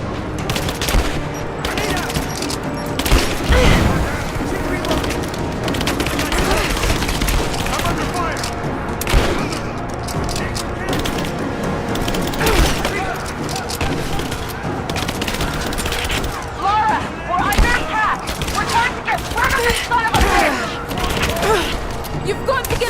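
Dense bursts of gunfire crackle through a Rise of the Tomb Raider firefight, rapid shots and booms overlapping with shouted voices throughout.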